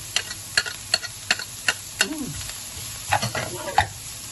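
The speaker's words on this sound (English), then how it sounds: "Now I'm on a high fire because I want to fry the onion" Shallots and onion frying in a pan over high heat, a close steady sizzle broken by sharp rhythmic taps of a utensil against the pan and some scraping stirs.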